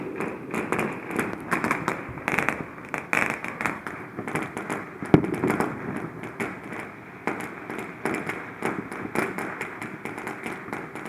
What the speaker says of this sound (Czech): bude jenom zvuk, prostě jenom toho, těch dělobuchů a tak dále, těch petard